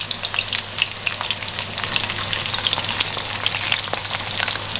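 Bitter gourd pieces fry in a small pan, giving a close, continuous sizzle full of rapid popping crackles, like light rain, at an even loudness.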